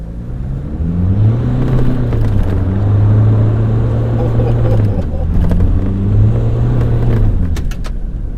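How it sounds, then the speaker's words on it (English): A Mazda BT-50 bakkie's engine drones loudly on a gravel road, its pitch climbing and falling as it revs and eases off, with a rumbling road noise underneath. "Very eager to please this engine."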